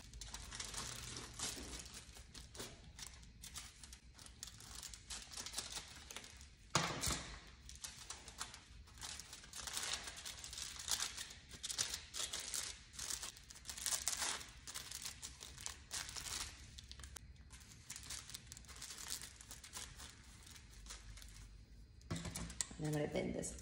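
Reused aluminium foil crinkles and crumples continuously during hair styling with a Dyson Corrale, a close, busy rustle with sharp crackles throughout, sometimes under talk.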